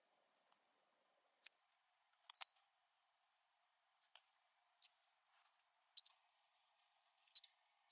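Scissors snip through scrapbook paper for a 12x12 page in a series of quiet, separate clicks and short cuts with gaps between them. No one speaks over the cutting.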